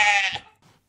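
A single sheep lets out one short, close, nasal bleat that wavers and fades within a second, with a faint trailing after-note and no other sound.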